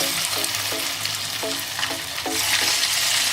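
Small fish pakoda pieces fry in hot oil with a loud, continuous hiss and crackle, while a utensil stirs and clinks rhythmically against the pan several times.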